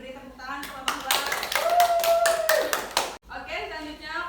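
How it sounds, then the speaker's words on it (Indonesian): Students in a classroom clap for a discussion group after its presentation, a burst of dense hand claps lasting a couple of seconds with voices talking before and after. "Ayo diberi tepuk tangan kelompok"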